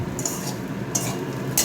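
Food frying in a pan and being stirred, with a close, steady sizzle broken by a few brief metallic clinks of the utensil against the pan.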